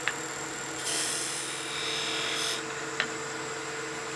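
A skew chisel peels across spinning wood on a lathe, producing a steady hissing shave with two longer brighter cutting passes and a couple of sharp ticks, fairly close and without talk.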